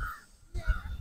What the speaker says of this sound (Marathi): काव काव काव करते कावळा